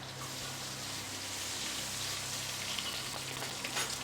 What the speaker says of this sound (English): to our bacon fat. and just kind of stir cook that